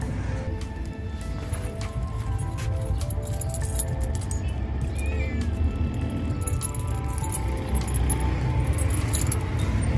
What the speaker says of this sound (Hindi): अभी इन बिल्लियों को देख लें।